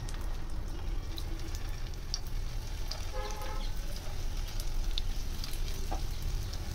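Soybean kebabs frying in oil on a hot tawa, a steady close sizzle with faint crackles and pops running throughout.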